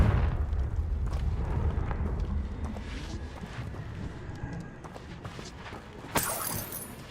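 Fiery Confringo blast spells in the Hogwarts Legacy video game: a heavy, continuous low rumble with layered booms, ending in a sharp, bright crackling burst near the close.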